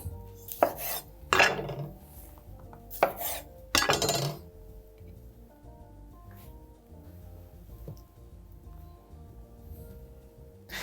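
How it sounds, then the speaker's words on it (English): A knife cuts through ripe summer tomatoes on a board in a few sharp, crisp strokes, each slice landing with a soft knock. Quieter clinks and rustles follow as the slices are laid out on a plate. "as I'm slicing them, I'll just scatter them around"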